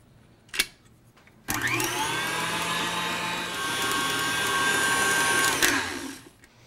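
A tilt-head stand mixer whips Italian meringue buttercream, a steady loud motor whir with high whine that starts abruptly after a brief knock and runs continuously for several seconds before cutting off.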